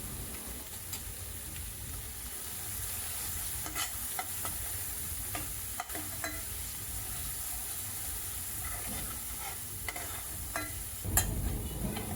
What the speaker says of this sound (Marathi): मसाले चांगले भाजून झाले मस्त तेल याला सुटलेलं आहे